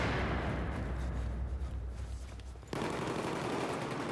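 An LSAT light machine gun in Battlefield 4 multiplayer fires in sustained bursts, dense rattling gunfire mixed with other battlefield noise, loud throughout with a brief dip before the firing resumes.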